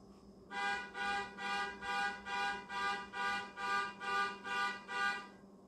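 An electronic alarm buzzes in ten evenly spaced pulses of roughly half a second each, a harsh tonal blare repeating at a steady rhythm, moderately distant in an indoor space at the EPCOT theme park.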